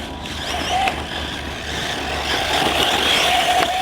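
A Team Corally Python 6S RC buggy on 6S LiPo power whines steadily as it drives and corners outdoors, with rising and falling motor pitch and a bit of rough surface noise underneath.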